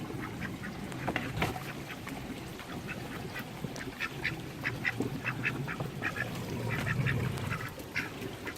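Several ducks quacking in a backyard duck pen beside a pond, a steady stream of overlapping nasal quacks at moderate distance over faint background noise.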